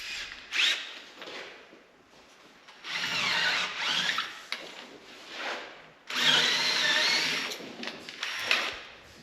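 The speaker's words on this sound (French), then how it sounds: "À l'aide d'une mèche un petit peu plus grosse, je fais un avant-trou pour la tige filetée" A power drill with a slightly larger bit bores a pilot hole for a threaded rod, whirring in two long bursts separated by short pauses, close and loud with no talk.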